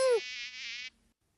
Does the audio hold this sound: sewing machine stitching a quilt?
no